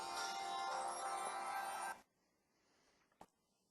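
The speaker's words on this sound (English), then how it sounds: "that was my phone" A mobile phone rings loud and close for about two seconds, a dense electronic tone that cuts off abruptly, leaving near silence with one brief click afterward.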